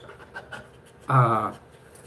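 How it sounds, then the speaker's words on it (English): A small dog sniffing around a desk, with faint snuffles and then one short, louder burst of panting breath, heard close up against a quiet room. "He's sniffing around the desk, checking for treats."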